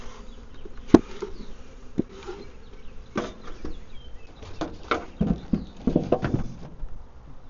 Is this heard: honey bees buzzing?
yes